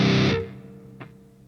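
A distorted doom metal drum hit programmed in EZ Drummer, one heavy crashing blast that rings out and decays, followed by a faint lighter tick as the tail fades.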